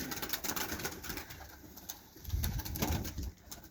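Young flying pigeons coo nearby in a loft in Cherkasy region, low soft coos repeating over background rustle and faint wing movement.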